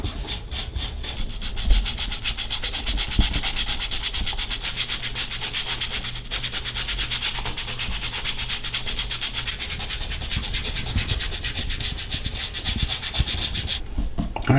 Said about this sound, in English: soak that area that you are going to clean. and lightly scrub.